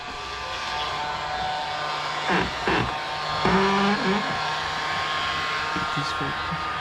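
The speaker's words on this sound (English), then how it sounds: "so I'll get my heat gun" A heat gun blows a steady, loud whooshing roar during window tint installation on a 2001 Toyota Camry, with brief thumps and handling noises and some low speech in the middle.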